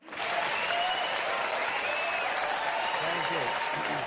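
A large audience gives a warm, sustained round of applause welcoming Ben Stein, steady dense clapping close and loud from start to finish, with faint voices mixed underneath.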